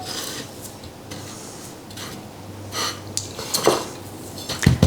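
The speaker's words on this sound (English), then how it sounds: "So now it's just a matter of dusting it with flour and then into the egg" Schnitzel is dusted in flour and dipped into egg mixture, heard as soft rubbing and scraping against a dish with light clinks of a utensil, up close and quiet, with a few sharper taps near the end.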